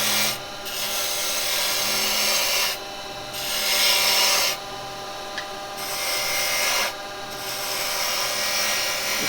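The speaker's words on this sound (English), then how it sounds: "This is all being done with a roughing gouge at the moment" A roughing gouge cuts into spinning wood on a lathe with a loud, continuous rasping, scraping whir that swells in long passes and drops briefly as the tool lifts, with no talking.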